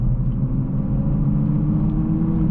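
A steady, low engine rumble of a 500 hp Toyota Supra driving at night holds at an even level throughout, a close car motor droning without any speech.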